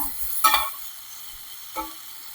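Brinjal curry with chopped ginger being stirred in a pan, a spoon scraping and mixing in two short bursts over a faint steady sizzle.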